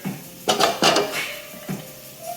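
Spoon scraping and clanking in a pot while mixing a vegan casserole with spinach, a few close metallic knocks and scrapes in quick succession, with no voice over them.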